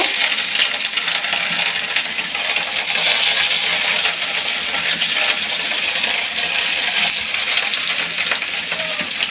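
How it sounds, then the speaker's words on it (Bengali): Steady, loud sizzling of nola fish frying in hot oil, a dense crackling hiss that continues without pause and no voices. "মাছটা ভেজে নেব"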